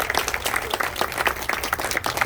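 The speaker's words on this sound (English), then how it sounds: "let's just give them a round of applause because this is a team effort" Applause for legislators at a state government celebration, a brief steady burst of clapping from a gathered audience, fairly close and continuous throughout.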